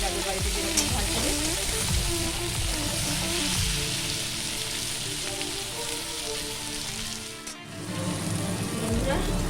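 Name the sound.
vegetables frying in pan for pui shaak with shrimp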